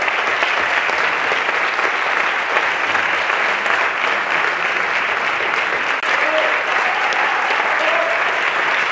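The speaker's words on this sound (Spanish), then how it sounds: "Un fuerte aplauso" An audience at a film festival award ceremony applauds steadily, a dense, even wash of clapping that continues without pause for about nine seconds.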